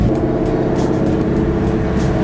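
A very loud Ford Mustang Mach 1 engine drives through a residential neighborhood, a steady, dense, close rumble that holds at full volume for the whole stretch with no voices.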